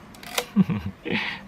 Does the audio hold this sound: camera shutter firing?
yes